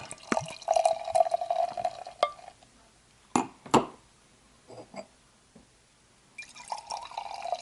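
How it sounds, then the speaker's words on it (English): Wicked Weed Old Fashioned beer poured into a glass, splashing and trickling in bursts with a few sharp clinks and drips, close and clear with no talking. "let's get to the pour"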